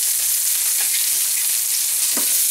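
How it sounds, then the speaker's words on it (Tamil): Onions and green chillies fry in a pan for Kerala kadala curry, giving a loud, close, continuous sizzle with scattered scraping and clicking from stirring. "நம்ம வெங்காயமும் பச்சை மிளகாயும் மட்டும் ஃபர்ஸ்ட் எடுத்து வந்து போட்டுறலாம் போட்டு நல்லா கலக்கி விட்டுக்கலாம்"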